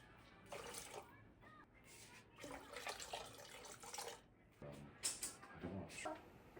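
Water splashes and pours into a pot of quinoa in several quiet bursts, with short pauses between the pours.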